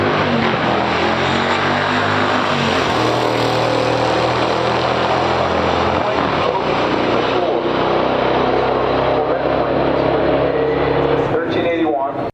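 Two muscle cars, a 1969 Corvette with a 427 and a 1973 Pontiac Firebird Formula 455, roar in a pure stock drag race. Their engines make a loud, continuous, dense drone throughout, and voices and crowd noise mix underneath.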